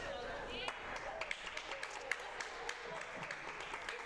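Scattered clapping at a girls' varsity basketball game against Albany, with the bench rallying the team: uneven claps and sharp transients over a steady gym crowd murmur and chatter.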